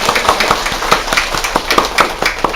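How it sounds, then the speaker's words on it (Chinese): Audience applause, a steady patter of many hands clapping at close range, continues for a few seconds without speech. "我们再次以热烈掌声来感谢我们"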